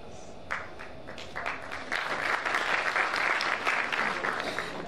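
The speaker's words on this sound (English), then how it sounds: "Can we have another round of applause?" A debate audience gives a round of applause, dense clapping that swells from a few hands into a steady roar of many and stays loud to the end.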